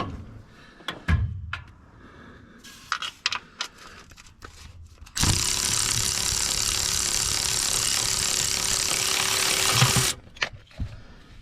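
Ratchet clicks and clanks while a nut is loosened on a Chevy S10 clutch slave cylinder, scattered close mechanical knocks followed by a long steady loud whirring stretch of about five seconds, then more knocks.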